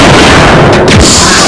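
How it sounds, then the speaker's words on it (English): A grenade launcher fires a single acid round in Resident Evil 2, one loud, close, booming shot that fills the short moment with a heavy blast. "1 shot with acid rounds"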